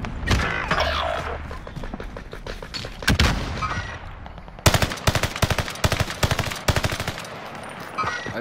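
Gunfire in Warzone: sparse shots early, then rapid, loud automatic bursts crackling close by over a steady battlefield din.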